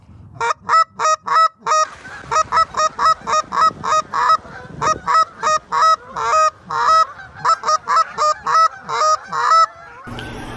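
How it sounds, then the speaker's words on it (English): A rapid run of loud, honking double-cluck goose calls, clipped double clucks repeated in a steady rhythm, close and clear with no talking. "what the geese are expecting to hear is the contented sound of geese on the floor talking to each other"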